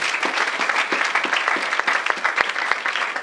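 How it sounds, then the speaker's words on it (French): A church congregation claps steadily at close range, a dense sustained round of applause from many hands, with no voices standing out. "Acclamons pour le Seigneur Jésus."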